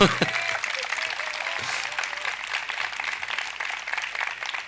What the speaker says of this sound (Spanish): Para aplaudirla, hombre, por favor.